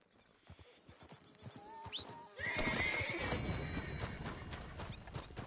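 A horse in Red Dead Redemption 2 clip-clops with quick hoof steps and short whinnies, then lets out a loud, drawn-out neigh partway through over continued hoofbeats.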